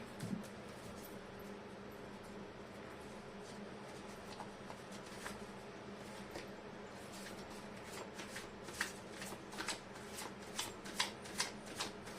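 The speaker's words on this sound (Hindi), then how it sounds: "मैं कर लेती हूँ कार्ड की शफलिंग।" Tarot cards being shuffled by hand: a soft, steady papery rustle that turns into crisp, rhythmic riffles and flicks growing sharper toward the end, close but quiet.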